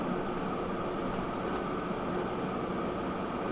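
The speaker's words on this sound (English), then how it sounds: "Why are you still a handsome-looking steam train?" A steam train runs in the video game Train Fever, heard as a steady, moderately quiet mechanical rumble and hum with no distinct breaks.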